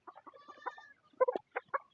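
Hens clucking around a small home farm's chicken house, a close run of short, uneven clucks with a brief pause before a louder burst of calls.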